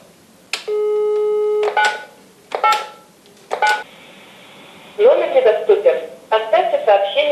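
A telephone call attempt: a long tone, then several short beeps, followed by a burst of rapid dialing tones and clicks, close and clear, with speech-like sounds mixed in.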